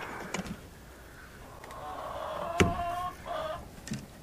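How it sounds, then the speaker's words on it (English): Several hens cluck and squawk in scattered bursts inside a mobile off-grid chicken coop while eggs are gathered, with one sharp louder squawk partway through and low rustling between the calls. "So let's get our eggs out of here and we'll let the chickens out."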